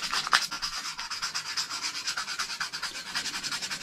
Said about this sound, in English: Now what I'm doing here, I'm just sanding his helmet up, getting him ready for primer.